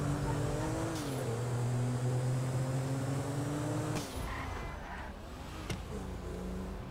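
Car engine droning steadily in Grand Theft Auto V, a loud sustained hum with pitch shifts as it drives, then a sharp cut and rougher, quieter engine noise with small knocks near the end.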